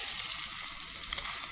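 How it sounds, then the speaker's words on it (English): Craster kippers sizzle in a Ridge Monkey pan, a close, steady bright hiss of frying with faint crackles and no talk. "Sizzling away in the Ridge Monkey."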